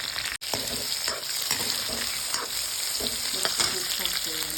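Soya chunks and green chilies fry in a pan, a steady close sizzle broken by scraping stirs and soft knocks of a spoon against the pan, with no talking.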